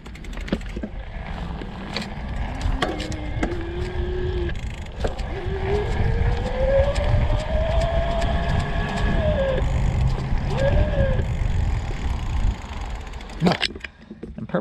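Bulls E-Stream EVO AM 3 27.5+ e-bike mid-drive motor running at its lowest assist level, a steady rising and falling electric whine under fast pedaling with road and wind noise throughout.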